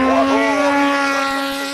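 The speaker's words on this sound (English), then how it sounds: "Gas turbine bike." A gas turbine motorbike at the Goodwood Festival of Speed gives off a steady, high-pitched whine that holds loud and even for under two seconds.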